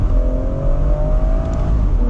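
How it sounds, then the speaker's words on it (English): A 2017 BMW 440i Gran Coupe F36 with a Stage 1 tune accelerates from inside the cabin, its turbo whine rising as a steady tone over a loud, rumbling engine drone. "I can hear that turbo whine."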